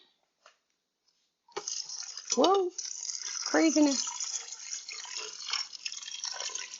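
Water is poured into a pressure cooker while beef stock is being made, a steady splashing rush that starts abruptly and continues. A man exclaims briefly over it.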